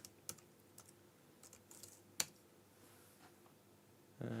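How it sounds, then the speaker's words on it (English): Keys tapped on a computer keyboard while typing a password, a few sparse faint clicks with one sharper strike, quiet and close in a still room. "I have to be really careful I don't sit and type passwords while you see me typing the passwords"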